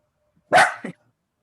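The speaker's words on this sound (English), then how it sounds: "we've got a dog that's sharing with us right now" One loud, close dog bark followed by a shorter, softer second yip, standing alone against near silence.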